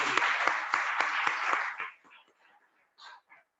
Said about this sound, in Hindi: एक बार फिर से तालियां बनती हैं।